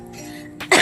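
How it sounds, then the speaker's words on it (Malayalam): A single rough cough, close and abrupt, bursts out after a stretch of low background hum, from someone who has had a bad cough for days. "2-3 ദിവസമായിട്ട് ഭയങ്കര ചുമയാണ് ഗൈസ്."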